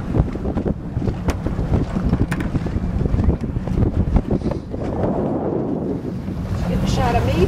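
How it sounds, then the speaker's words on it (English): Strong 17 to 18 knot wind over Florida Bay buffets the microphone on a small boat, a loud continuous rumble with water slapping nearby and voices talking underneath. "We've got about a 17-18 knot wind, which is about 20 miles an hour today"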